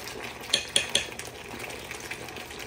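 Spaghetti sauce bubbles and hisses steadily in a pan, with three quick clinks of a utensil against the rim near the start.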